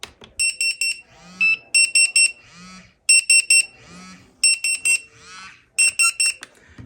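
A restaurant guest pager, triggered from a dial pad, beeps in repeated bursts of rapid high electronic tones while buzzing as it vibrates, loud and close, with short gaps of rattling vibration between the beep groups.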